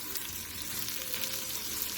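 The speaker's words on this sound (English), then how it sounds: "it's been frying for about 6 minutes now" Onions sizzle and crackle in a hot pan, a steady soft frying hiss with no talking, fairly quiet and close.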